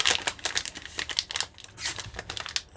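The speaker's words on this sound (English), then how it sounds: "Scissors to open the bag" Close, busy crinkling of a thin plastic bag being cut open with scissors, sharp rustles and snips, continuous and fairly loud.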